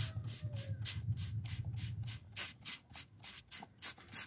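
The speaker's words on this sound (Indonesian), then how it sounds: "Kita semprot air dulu agar tidak kering-kering" A hand spray bottle misting water onto a chili seedbed growing medium, about a dozen short, sharp hissing spritzes in a fairly regular rhythm, close and clear with a low hum underneath at first.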